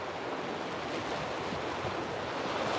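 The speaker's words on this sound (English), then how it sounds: "the waves are gorgeous this morning. Yeah, extra ripply because of the wind" Morning ocean waves, choppy and rippled by wind, make a steady, broad wash of surf and wind rush heard up close and fairly loud, with no one speaking.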